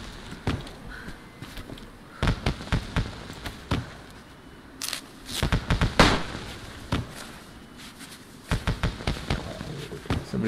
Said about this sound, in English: Whoever's just lighting off fireworks is an actual menace.